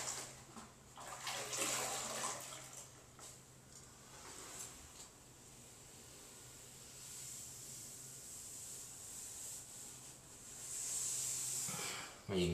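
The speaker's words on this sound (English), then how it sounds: "Rinse out our sponge really well." A grout sponge is rinsed out in water in a bathroom, giving a steady soft sloshing and hiss throughout at low level, with a few louder splashes near the start and end.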